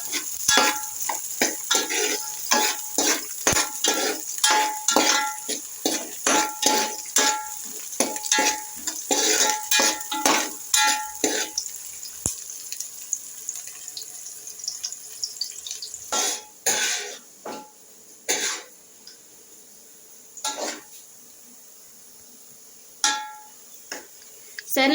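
Sliced onions fry in a pan until brown, with steady sizzling broken by dense, rapid scraping strokes of a spoon stirring them. The stirring thins out into scattered scrapes as the sizzle fades toward quiet.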